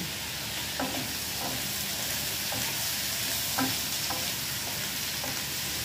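Tomatoes, bitter gourd and string beans stirred and sautéed in a pan under a steady sizzle, with a spoon scraping and knocking through the vegetables every half second or so.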